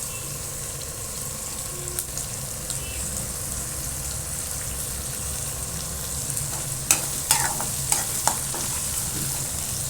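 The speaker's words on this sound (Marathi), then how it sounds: "कांदा छान असा ब्राऊन करून घ्यायचा आहे आपल्याला." Chopped onion fries and browns in ghee for vegetable upma, a steady close sizzle with occasional stirring scrapes and a cluster of spatula clinks near the end, and no one speaking.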